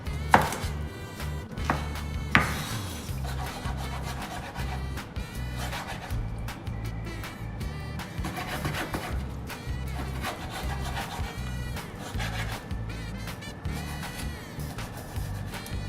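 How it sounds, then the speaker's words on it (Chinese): Knife strokes dice half a small fresh chicken breast into small cubes on a cutting board, rapid close-up chopping in a quick, steady rhythm with a few louder knocks. "这个鸡胸有一点小，也挺新鲜，吃半根， 切成小丁就行。"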